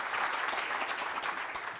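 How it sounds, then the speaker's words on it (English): Warm, steady applause from an audience at a cybersecurity forum, a dense even wash of many hands clapping throughout, moderately loud and with no voices over it. "So please join me in a warm applause."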